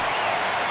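A home baseball crowd roars and cheers in a stadium after a home run over the right field wall, a dense, loud, sustained wash of crowd noise with a whistle rising through it.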